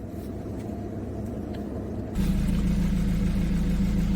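A Jaguar X-Type diesel engine idles nearby with a steady low rumble that grows louder and fuller partway through, continuing evenly to the end.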